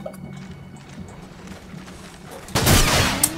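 An M1014 shotgun in Call of Duty 4 on the Shipment map fires one loud, booming blast partway through, which rings out over quieter game noise and scattered earlier sounds.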